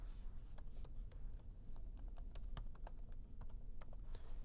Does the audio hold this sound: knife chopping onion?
no